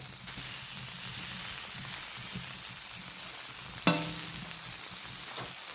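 Fish fries in butter in a pan, giving a steady soft sizzle throughout, with one sharp clink of a utensil midway and faint stirring scrapes.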